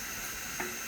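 Tomatoes hit a hot pan of bitter gourd with a steady, moderate sizzle and a brief soft clatter midway.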